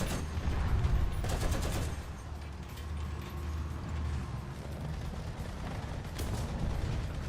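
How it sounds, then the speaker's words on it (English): Dense, sustained gunfire in a video game, with overlapping shots crackling at close range as a steady wall of noise that swells at the start and again near the end. "someone's shooting at me"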